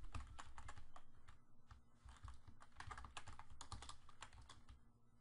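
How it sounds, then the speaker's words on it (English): Computer keyboard keys click rapidly and irregularly close by during a Fortnite gaming session, a dense stream of sharp taps with short pauses, over a low steady hum. "Probably hear a lot of clicking keys in the background."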